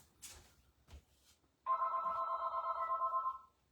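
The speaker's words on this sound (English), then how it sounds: "oh, there's the phone" A household telephone rings indoors, starting abruptly after a few soft knocks and bumps, with a steady, close, fairly loud warbling bell tone that sustains for about two seconds before cutting off.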